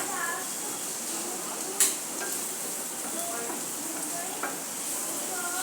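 Ingredients roast in a pan for creamy white sauce pasta, giving a steady soft sizzle with occasional clinks and scrapes of stirring, while a voice talks quietly in the background.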